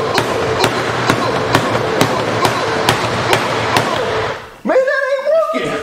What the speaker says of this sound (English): so I'm going to hit this egg bot with the hammer